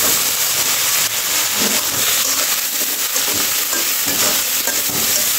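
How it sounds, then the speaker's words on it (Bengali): Chopped potatoes and eggplant sizzle loudly in a pan with onions already browned in oil and whole cumin, a steady broad hiss with soft stirring scrapes throughout and no voices. "এখন আমি কেটে ধুয়ে রাখা আলু বেগুনগুলো দিয়ে দিব।"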